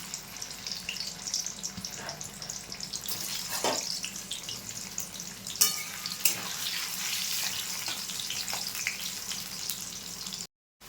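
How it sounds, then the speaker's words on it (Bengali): Potatoes fry in mustard oil, a steady moderate sizzle and hiss with a few sharper crackles and stirring clatters, close by and without talk, cutting off at the very end. "আলুটা ভেজে নেব।"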